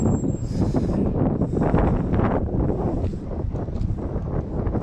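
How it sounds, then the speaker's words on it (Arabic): Strong wind buffets the microphone beside the sea at a lake harbour in Gothenburg, where ships and sailboats sit on the water, a steady loud roaring gust that continues throughout without talk. "الهواء هون قوي كثير"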